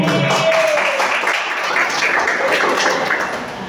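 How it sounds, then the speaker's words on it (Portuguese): A group at a community sanitation meeting gives a round of applause, a steady wash of clapping with a voice briefly heard at the start. "Salva de palmas."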